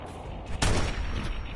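Gunfire from Piper, a companion in the video game Fallout 4, as a sharp, loud crack followed by a dense, rumbling burst of shots in the thick of combat, with no speech.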